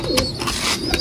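Pigeons kept in an enclosure coo nearby, soft repeated throaty calls over a background of light rustling and chatter-free ambience.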